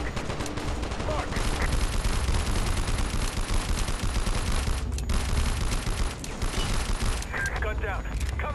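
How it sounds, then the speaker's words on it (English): Sustained suppressing gunfire in the video game Call of Duty Strike Team: loud, dense automatic bursts and explosions roar continuously, with brief lulls and clanking weapon mechanisms. "Lay down suppressing fire in their AO."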